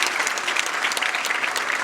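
An audience at a prize ceremony claps loudly and steadily, a dense burst of applause with no voices standing out.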